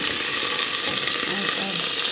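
Steady, close sizzling of ginger garlic paste frying in hot oil, a continuous crackle with faint stirring scrapes and no talking.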